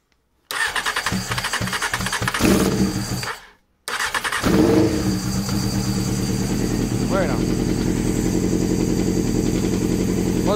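A Honda CBR600 F2 motorcycle engine under restoration cranks, stalls briefly, then catches and starts, revving loudly up close before settling into a steady, rough running sound.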